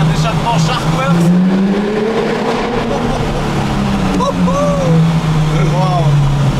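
A Porsche 911 R fitted with a Sharkworks exhaust drives along a road, its engine note loud and near, rising and falling smoothly through the revs while voices occasionally come through under it.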